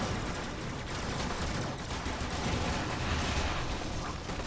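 Enemies exploding one after another in the video game Warframe, a dense, loud barrage of overlapping blasts and rumbling bursts that carries on without a break.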